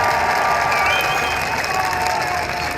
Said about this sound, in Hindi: एक बार तालियों की गूंज में बताइए आप इमरान खान से कितना प्यार करते हैं